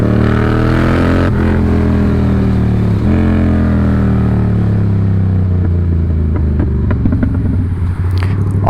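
A motorcycle engine revs hard and loud at close range, droning through the whole stretch with pitch rising and falling. Clattering mechanical noise and crackle come in near the end.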